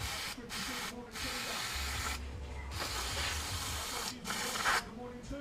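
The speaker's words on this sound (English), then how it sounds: "Just a bit of brake cleaner. Give it a clean up." Brake cleaner sprayed in hissing bursts onto the galvanised chassis parts of a 4x4 off-roader during a bush replacement on the X-arms, several short sprays separated by brief gaps, close to the microphone.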